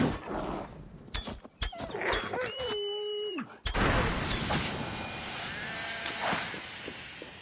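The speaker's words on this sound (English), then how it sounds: "That sounds like a sheep." A sheep in Assassin's Creed Valhalla gives one clear, wavering bleat in the middle, set among game footsteps, clatter and ambient noise.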